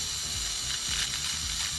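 A Kawasaki M7 nose hair trimmer buzzes steadily at close range as it cuts nose hair, with a continuous whirring motor tone and faint clicking as hairs are caught.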